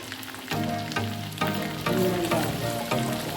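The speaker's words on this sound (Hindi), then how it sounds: "ये प्याज डालें" Chopped onions hitting hot oil in a pot for a chicken korma, setting off a steady, close sizzle and frying crackle that swells at intervals, with faint stirring scrapes underneath.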